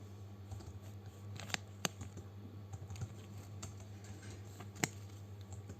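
Typing Python code on a computer keyboard, a steady close run of light key clicks with a few sharper, louder taps, no one speaking.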